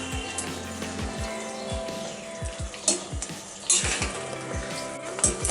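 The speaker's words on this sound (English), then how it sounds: "now we'll come back to you shortly after completion of full frying" Katla fish deep frying in oil in a hot kadai, a continuous bubbling sizzle with scattered pops and a few louder crackles, alone without talk.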